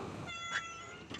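A cat at a Buddhist temple in Lampang, Thailand, gives a couple of short meows in the evening, moderately close, with quiet background between calls and no talking.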